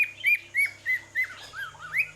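Alexandrine parakeets give a series of about seven loud, clear chirping calls in a regular rhythm, close by, with no talking over them.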